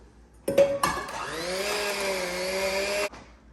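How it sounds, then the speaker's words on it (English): An electric mixer set to low beats cream cheese and sugar for cheesecake batter: a couple of brief starts, then a steady whirring motor hum for about two seconds before it cuts off. "now we are going to turn this on low and start mixing"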